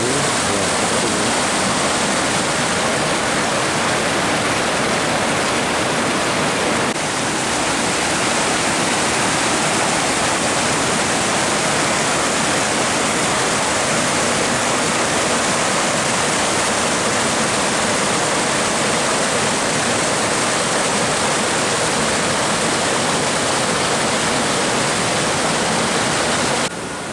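A mountain river flowing down from the Wilis range near Nganjuk roars loud and close, a dense, unbroken rush of churning water without any pause.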